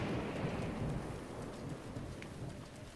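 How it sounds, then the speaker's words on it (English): A thunderstorm with rain in The Legend of Zelda: Breath of the Wild, steady close rainfall hissing over a deep, rolling rumble of thunder that slowly fades, with no voices. "Thunderstorms usually accompanied by rain."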